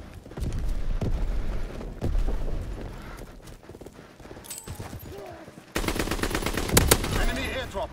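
Bursts of automatic gunfire and single shots in a Call of Duty: WWII multiplayer match come loud and close, stopping and starting over several seconds, with voices heard amid the shooting.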